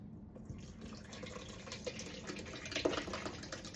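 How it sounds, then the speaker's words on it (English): Infused butter pours through a sieve in a quiet, faint trickle and drip of liquid, steady with small splashes, with no talk. "now I'm going to pour this incredible magic butter liquid gold through the sieve"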